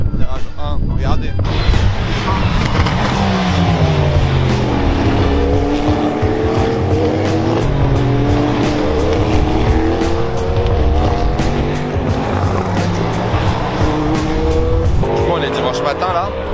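Race cars sweep through the first corner at the Le Mans 24 Hours circuit, engines rising and falling in pitch as several pass in close succession, loud and near, with a voice talking over them.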